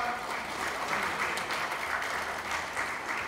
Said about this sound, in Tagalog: kusog yun nga palakpak